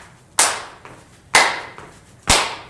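Three sharp, loud impacts spaced about a second apart, hand claps landing together with both feet hitting the ground during a line hop with heel kick, each with a quick decaying tail, and fainter landing thuds between them.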